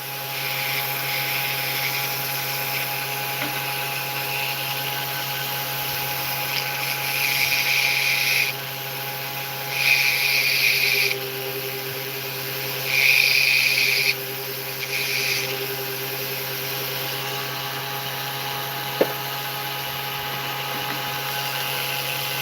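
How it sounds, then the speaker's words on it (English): Small rotary drill or flex-shaft tool working on jewelry while setting gemstones, a steady whine in bursts of a few seconds over a constant motor hum, close and moderately loud, with no talking. "I'm gonna have to do some drilling"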